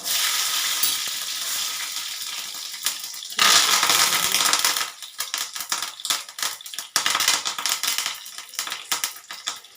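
Mustard and fenugreek seeds spluttering in hot oil make a loud, close, bright sizzle at first, then surge briefly before breaking into irregular crackling pops and stirring scrapes.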